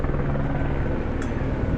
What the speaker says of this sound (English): That's a helicopter tour.